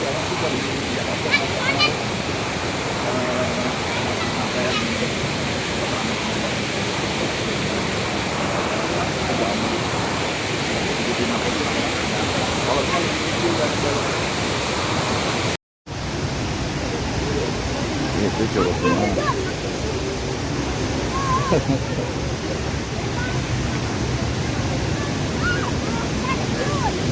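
Curug Goong waterfall in Pandeglang, its water running muddy after rain, a loud, steady roar of rushing water close by, continuous broadband noise with a brief cut partway through and voices audible over it.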